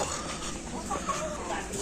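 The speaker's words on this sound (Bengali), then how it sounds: "মুরগি দেখো খেয়ে খেয়ে বড়" Village chickens cluck softly in short scattered calls against a busy farmyard background, with faint murmuring nearby.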